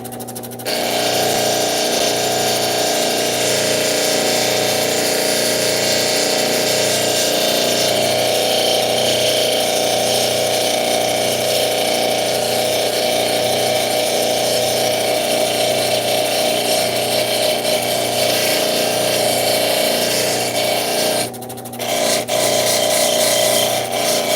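Cabbing machine polishing a turquoise cabochon on a 14,000 grit wheel, a steady, continuous whirring hum with constant rubbing, close by, briefly dipping near the end before resuming.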